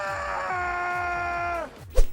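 A long, loud wailing scream from a mugged character in GTA Online, a sustained strained tone that bends downward and cuts off, followed by a brief thud-like burst.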